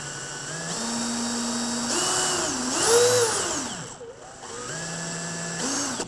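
A DeWalt DCD800 cordless drill whirs loudly with its chuck wobbling, the motor pitch stepping up and sweeping down and back as the speed changes, with no talk.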